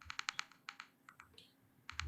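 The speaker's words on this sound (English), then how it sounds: "I was trying to see where that clicking noise was coming from" Sharp, rapid clicks in quick bursts tap against a desk or keyboard, close and fairly crisp, with short pauses between clusters and no voices.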